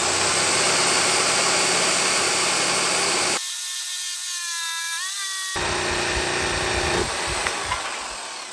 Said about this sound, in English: took the pencil there, got a couple nice radiuses that I liked, and went to town with the jigsaw